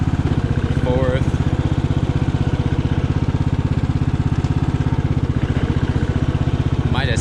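An old riding lawn mower, abandoned for years, runs with a steady close engine chug throughout while gears are shifted, with someone talking briefly over it.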